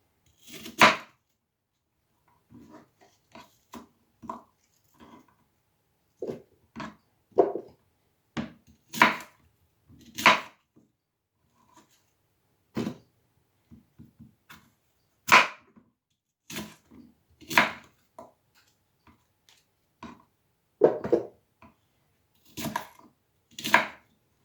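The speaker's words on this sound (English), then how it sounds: "just kind of cut up the apple" Irregular sharp knife chops through an apple on a cutting board, firm close thuds and taps with short pauses between bursts, no talking.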